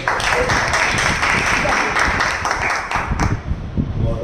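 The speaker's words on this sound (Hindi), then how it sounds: "एक बार आप सभी के सम्मान में शानदार ताली हो जाएगी।" Dense, sustained applause from an audience at a Hindi motivational talk, loud and continuous with a slight dip near the end.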